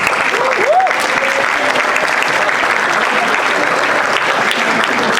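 An audience claps steadily and densely throughout at a TAF Africa Global 30th anniversary event, with a brief whistle-like tone rising early on over the sustained applause.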